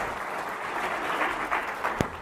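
An audience applauds for a speaker in a room, a brief, fairly soft patter of clapping heard from a distance, with one sharper knock near the end.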